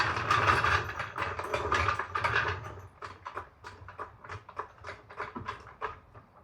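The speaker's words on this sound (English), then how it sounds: "now I'm going to stick a jack underneath the axle and support it" A jack is placed and pumped up under the axle of a Toyota Tacoma, quick rattling ratchet clicks and metallic clatter in an irregular rhythm, close up and fairly quiet with no talking.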